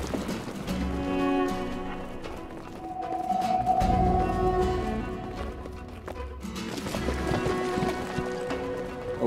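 Rhythmic clattering hoofbeats of ridden billy goats gallop along at a steady pace in the video game Brothers: A Tale of Two Sons, mixed with tonal game background sounds.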